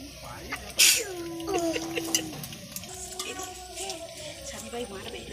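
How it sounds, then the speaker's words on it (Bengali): Palm naan frying in hot refined oil, a steady bubbling sizzle near the pan with a sharp burst early on, as a voice talks over it. "তেল গরম হয়ে গেছে, এবার ভেজে নেব।"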